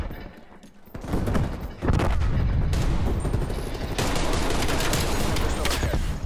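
Sustained bursts of gunfire in Black Ops Cold War, loud and dense, with rapid automatic fire and overlapping shots rolling continuously after a short quieter lead-in.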